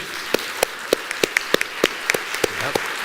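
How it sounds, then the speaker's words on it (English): A few pairs of hands clap in sparse, evenly spaced single claps at a business conference hall event, each sharp clap standing apart over a quiet room tone. "So let's give him a huge round of applause."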